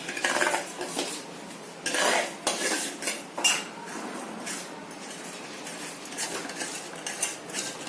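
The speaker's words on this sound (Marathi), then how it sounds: "पूर्ण तांदूळ टाकून झाले तिकडं फिरवून घ्यायचं म्हणजे चांगले भाजल्यासारखे" A metal spoon scrapes and clinks against a pan while rice is stirred for jeera rice, giving irregular close scraping bursts with short pauses and no speech.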